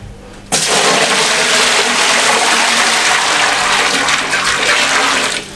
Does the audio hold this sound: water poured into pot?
yes